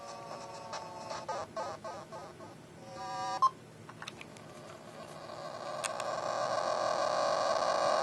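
Battletoads chiptune music and effects from an NES emulator on a GP2X Caanoo handheld, beeping melodic tones with a sharp blip midway, then a steady buzzy drone building louder toward the end.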